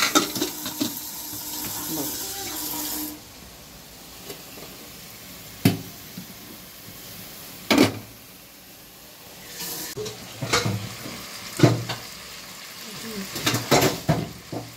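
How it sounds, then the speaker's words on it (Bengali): Mutton sautéing in a pan with ghee, yogurt and salt. A soft sizzle runs throughout, broken by scattered clinks and scrapes of a stirring utensil against the pot, with occasional talk. "ঘি দেওয়া হয়েছে, ঘি দিলাম, একটু দই দিয়েছি, নুন দিয়েছি, দিয়ে এবারে কষছি"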